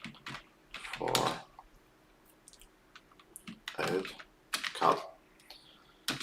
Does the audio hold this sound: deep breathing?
no